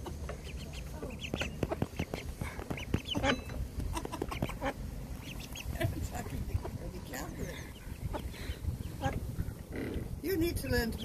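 Ducklings call in a busy, overlapping string of short high peeps and quacks, close by and fairly steady throughout, while a person talks over them.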